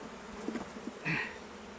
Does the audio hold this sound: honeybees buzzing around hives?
yes